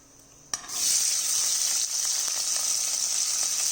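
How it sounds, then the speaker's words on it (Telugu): Onion and green chillies hit a pan of hot oil with whole spices, starting with a sharp splash and then settling into a loud, steady, close sizzle that continues unbroken without any speech. "అది కొంచెం బ్రౌనిష్ వచ్చే వరకు ఫ్రై చేసుకుందాం"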